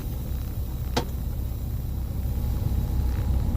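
A truck cruises along the road on a long-haul run toward Tennessee, its steady low rumble filling the cab continuously with a brief sharp click near the start.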